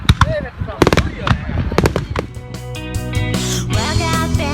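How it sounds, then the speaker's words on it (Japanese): Fireworks burst at the Katsushika summer fireworks festival in Japan, loud sharp booms and crackling volleys in quick succession, merging into a dense rumbling barrage, with people talking and exclaiming throughout. "これが花火だよ。"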